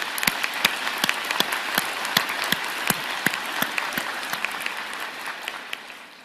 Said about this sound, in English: offer a vigorous round of applause as you pass by on the stage